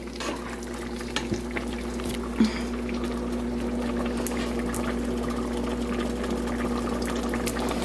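Turkey chili simmering in a pot on the stove over medium-high heat gives a steady, close bubbling and sizzling hiss with occasional small pops.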